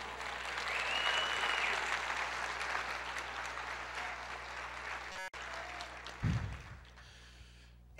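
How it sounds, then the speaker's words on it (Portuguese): A church congregation applauds during a sermon, with broad clapping that is fairly soft and distant, swells early and then gradually fades out before a brief bump of noise near the end. "Aplauda o Senhor"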